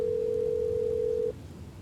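A phone call to Mrs. Lanning in the Blair Witch video game produces a single steady dial tone, clear and moderately loud, that cuts off sharply after about a second and a quarter, leaving faint background hiss.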